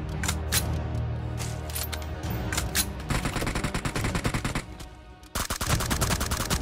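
Rapid automatic gunfire in a PUBG Mobile team deathmatch on the Ruins map, loud and close, with dense bursts of shots that break into sharp individual cracks and then a renewed volley.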